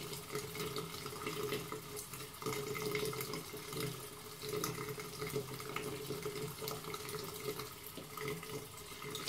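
A tap runs while a brush is wetted under it, a steady, fairly quiet stream of splashing water that continues throughout with small fluctuations.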